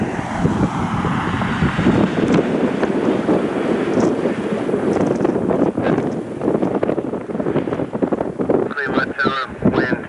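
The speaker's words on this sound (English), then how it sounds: "Wind's picking up again." Strong gusty wind buffets the microphone at Cleveland airport, a continuous loud roar with surging gusts and a few honk-like calls near the end.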